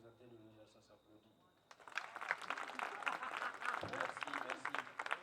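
Applause breaks out at a stand-up comedy show after a joke; a comedian speaks briefly, then clapping swells to fill the room, moderately loud and sustained to the end.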